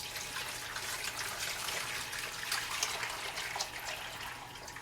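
Water pours steadily from a one-gallon jug into a hydroponic cell tray holding rock wool, a continuous close splashing trickle with no talk.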